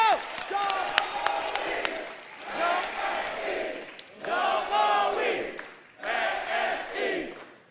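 Crowd at a political rally for a president clapping and cheering in several swelling bursts, with someone talking over them on a loudspeaker.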